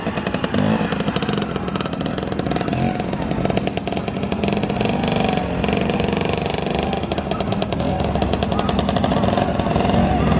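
A motorcycle engine at a gymkhana event revs and sputters steadily nearby, its rough, rapid pulsing continuous throughout, with faint voices underneath.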